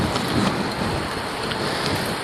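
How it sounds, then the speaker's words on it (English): Strong wind gusting between tall condo buildings in Toronto during a bike commute, a steady loud roar of wind noise buffeting the microphone throughout, with no voices. "you can notice there's a lot of wind. Hopefully the wind isn't too loud."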